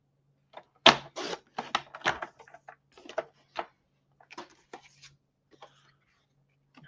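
A paper trimmer slices card stock into small squares for a 6x8 scrapbook album, giving a quick run of sharp close cuts and taps followed by softer, scattered clicks in a quiet room.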